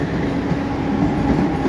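A Mumbai local train rolls steadily past the platform at Vashi station, a continuous close rumble of wheels and carriages with a faint rhythmic clatter and no pauses.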